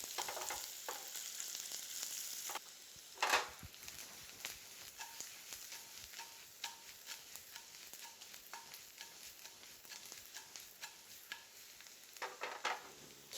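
Green beans fry in a hot pan with a soft, continuous sizzle, punctuated by scattered stirring clinks and scrapes as they are kept moving; nearby and moderate in volume, no talking.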